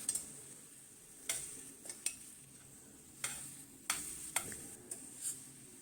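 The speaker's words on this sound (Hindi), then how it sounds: "10 से 12 मिनट ही मैं इसको यहाँ पे फ्राई करूँगी" Mixed vegetables being stirred and fried in a pan, with a few sharp spatula scrapes and clinks at intervals over a soft, quiet sizzle.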